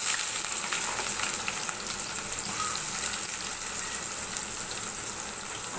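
Onions fry in hot oil in a wok with a loud, steady sizzle, bright crackling spatter running continuously throughout, no voices over it.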